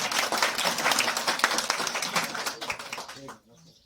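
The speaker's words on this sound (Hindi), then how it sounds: "मैं चाहता हूं आप सभी से अनुरोध है कि एक जोरदार तालियां।" An audience claps loudly and densely at a district public campaign gathering, the applause filling the space before breaking off abruptly near the end, leaving a brief quieter tail.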